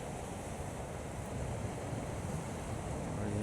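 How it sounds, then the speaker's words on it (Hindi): Continuous roar of surf pounding hard on Mundywari Beach in Balochistan, a dense wash of breaking water mixed with wind noise that swells slightly toward the end. "यहाँ पे पानी टकरा रहा है फुल प्रेशर के साथ।"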